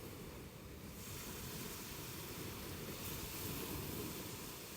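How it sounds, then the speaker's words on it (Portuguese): Ocean waves wash onto a beach in a steady, soft, continuous surf roar, heard alone with faint wind and no voices. "Traga sua atenção de volta para o som das ondas sempre que precisar."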